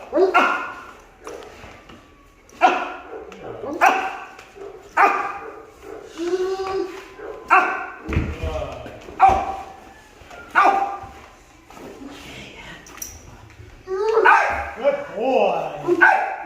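A dog in K9 protection training coming off the bite sleeve, barking close and loud in repeated sharp bursts with short pauses between them.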